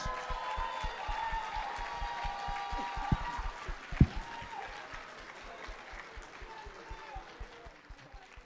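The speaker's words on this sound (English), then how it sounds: "Let's give him a round of applause" Steady applause from a crowd at an employee awards ceremony, many hands clapping together at an even level for several seconds with no break.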